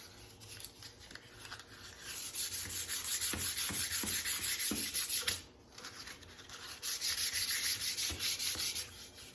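Light hand sanding of wood coated with brush-on polyurethane finish: soft, close scratchy strokes in rhythmic bursts, fairly quiet, with a brief pause midway and no talking.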